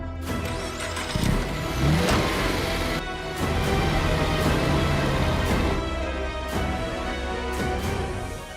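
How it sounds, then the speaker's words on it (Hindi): A car's engine turns over and revs as the vehicle pulls away in a loud, sustained rumble with rising surges, heard alone without talk. "गाड़ी निकाल।"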